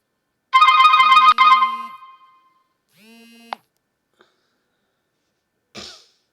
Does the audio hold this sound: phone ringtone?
yes